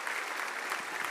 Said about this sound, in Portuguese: Vamos aplaudir forte, gente, por favor.